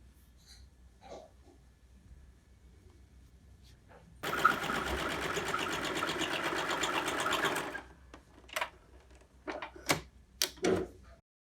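A sewing machine runs in one steady burst of about three and a half seconds, stitching down the loose end of lace on an apron made from an old kurti, with quiet handling clicks and rustles before and after.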